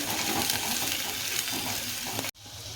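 Chopped onion frying in a pan of hot oil while cooking a green gram dish, a steady close sizzle with light stirring that cuts off abruptly near the end, no talk.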